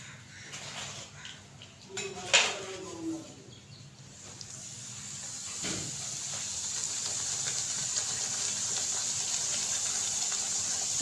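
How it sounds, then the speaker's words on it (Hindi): Pooris deep-fry in hot oil with a rising, steady sizzle that swells and fills the background, after a few early clinks of a utensil against the pan. "ऐसे करके बाकी की भी सारी पूरियाँ मैं फ्राई कर लूँगी।"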